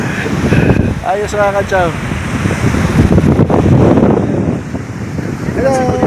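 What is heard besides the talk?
ocean waves and wind at a beach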